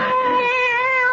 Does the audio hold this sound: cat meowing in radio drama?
yes